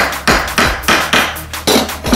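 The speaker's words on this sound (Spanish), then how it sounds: "Sujetamos bien la tuerca y podemos pasar a golpearle un poquito." A metal nut held firmly in place is struck repeatedly with a hammer, about seven sharp, ringing close-up blows in a fairly steady rhythm, with no talking.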